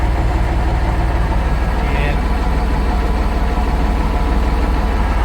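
A vehicle engine fitted with a snowplow and used for skidding logs drones steadily, loud and close, with an even low rumble throughout and no break.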